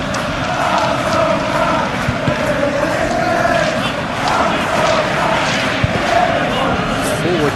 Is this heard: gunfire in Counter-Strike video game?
no